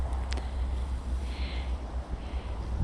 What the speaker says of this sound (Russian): Хотя ветер штормовой сегодня весь день дует.